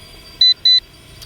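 Two short, sharp electronic beeps in quick succession from an RC Era C123 RC helicopter over a faint background hum.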